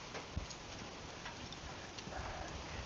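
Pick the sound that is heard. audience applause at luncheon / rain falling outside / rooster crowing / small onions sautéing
rain falling outside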